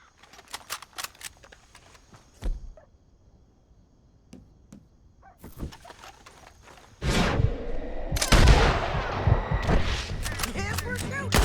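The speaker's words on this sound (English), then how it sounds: "Yes, we're shooting." Red Dead Redemption 2 gunfire, with sparse sharp cracks at first, then a dense loud stretch of shots and rumbling in the second half, with voices talking over parts of it.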